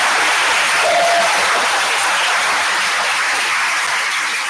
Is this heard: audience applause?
yes